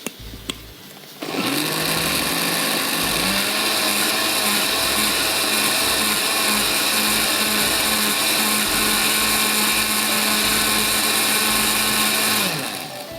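A blender whirs steadily while mixing a mango mousse mixture, starting after a brief quiet moment and running loud and continuous for about eleven seconds before cutting off, with no talking.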